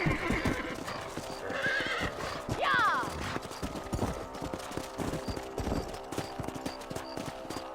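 Hooves clip-clop in a quick rhythm in Red Dead Redemption while a horse lets out a shrill whinny partway through; a voice shouts briefly over the galloping.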